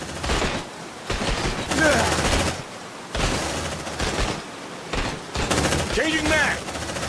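Sustained automatic gunfire rattles through combat in the sci-fi video game Aliens Dark Descent, loud and dense in long bursts with brief gaps, while voices shout over the shooting.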